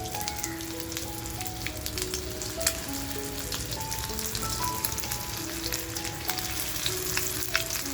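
Kharda tikki sizzle in hot oil on an iron tawa, a steady, close crackling fry with faint popping and no one speaking.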